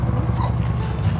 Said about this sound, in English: Upset puppy in the car.